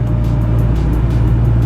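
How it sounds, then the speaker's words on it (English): A car driving on the highway with its air conditioning running, heard from inside as a loud, steady low engine drone and road rumble. "I brought the car out on the highway."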